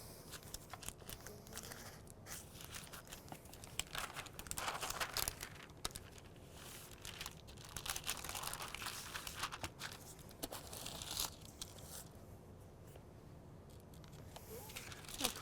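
Parchment paper crinkles and rustles in irregular bursts while pecan sandies dough is rolled and tightened inside it, soft and close, with quiet handling noises between.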